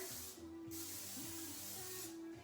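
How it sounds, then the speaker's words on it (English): Cooking spray hisses from a can into a pie pan in a home kitchen, two steady bursts separated by a short pause, close and fairly quiet with no talking. "Just use some cooking spray here."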